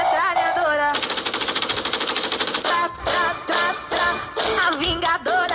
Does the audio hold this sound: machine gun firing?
yes